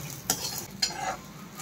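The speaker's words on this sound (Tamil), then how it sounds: "அதனால் உப்பையும் மிளகாயும் சேர்த்து வறுத்துக்கிறேன்." Salt and chillies dry roasting in a pan, stirred with a utensil: a soft, faint hiss marked by two quick scraping strokes a half second apart, with no talk.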